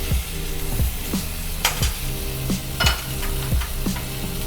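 Chopped tomatoes hitting a hot frying pan for a black bean vegetable dish, a loud steady sizzle with repeated scraping stirs of a spoon every second or so, close and without talk.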